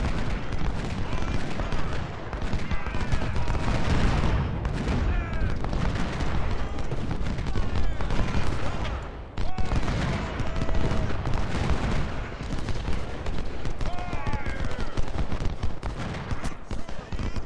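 Dense cannon and musket fire rolls on without pause in an Ultimate General: Civil War battle at First Bull Run, with layered booms and crackling volleys crowding the whole stretch at steady loudness.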